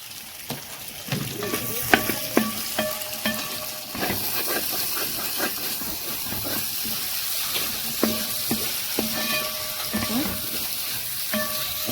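Chopped onion, cut into quarters, frying in a pan for a rainbow chicken dish: a steady, close sizzle runs throughout, broken by repeated clinks and scrapes of a utensil stirring against the pan.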